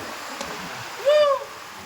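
Heavy rain makes a steady, even wash of noise, and one short rising-falling tonal call cuts through it briefly near the middle.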